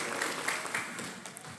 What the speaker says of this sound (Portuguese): Dê uma forte salva de palmas a eles.